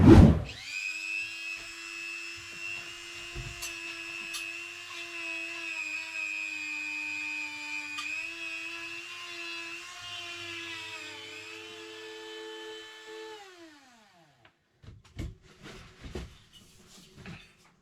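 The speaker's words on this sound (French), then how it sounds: "j'ai poli la barre là, qui vient devant la cuisinière" A power tool polishes a steel bar for the front of a cooking stove, a steady high whine held for about thirteen seconds before winding down, followed by a few scattered knocks and handling sounds.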